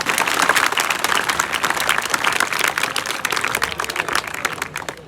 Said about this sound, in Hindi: तालियों की घनघोर आवाज कर दो एक बार